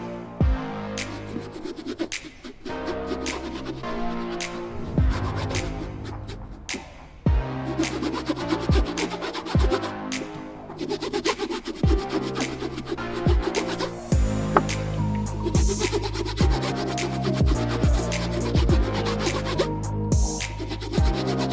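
Filters are scrubbed clean by hand in a sink, with repeated rough rubbing and scratching strokes over continuous background music, the strokes close and rhythmic throughout.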